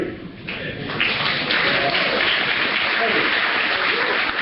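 Audience applause at a talent showcase after a rope magic trick, a dense continuous wash of clapping that holds steady throughout.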